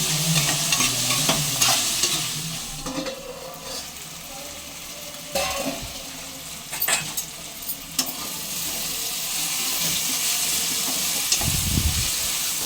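Tomato and onion pieces with coarse salt being stirred in a hot pan, a close frying sizzle with scraping and clanking of a spoon, plus a brief heavier knock near the end as a lid goes on.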